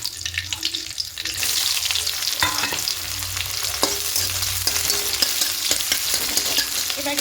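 Chopped onion dropped into hot oil with black cumin seeds and dried chillies, the sizzle surging after a quieter start, then continuing steadily with spatula clicks and stirring, close and loud, without talk.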